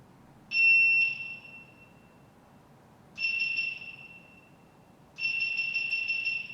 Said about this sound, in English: That looks like the beeps from a GoPro.